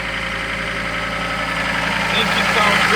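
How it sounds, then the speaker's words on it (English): The engine of a John Deere 325 skid steer idles steadily, a close, even diesel rumble with a continuous mechanical drone that builds slightly toward the end. "Engine sounds good."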